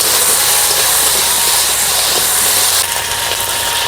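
Potato and cauliflower pieces frying in oil in a pan, a loud, steady sizzling hiss that continues throughout without pause, easing slightly near the end, with no talk.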